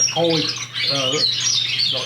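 Canaries chirp and twitter in a bright, continuous stream of high trills, with a low steady hum and a few faint harmonic calls mixed in, loud and close throughout.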